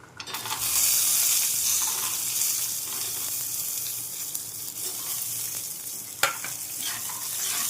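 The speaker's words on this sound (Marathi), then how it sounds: "मस्तपैकी तेलात भाजणार आपण थोडं थोडे तेल टाकून भाजणार आहोत" Coconut and peanuts roasting in a little oil in a pan over medium heat, a loud, steady hissing sizzle throughout with one sharp clack of a utensil near the end.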